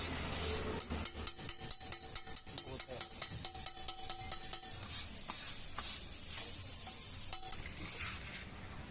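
Metal spatula chopping a mango and egg mixture in a hot pan: quick, rhythmic tapping strokes over a steady sizzle, close and fairly loud, easing into looser scraping toward the end, with no talk.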